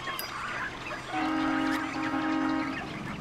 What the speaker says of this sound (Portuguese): essas aves estão migrando